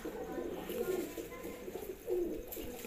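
Punjabi Malvai pure nasal pigeons cooing softly indoors, with a couple of low, rolling coos over faint background noise.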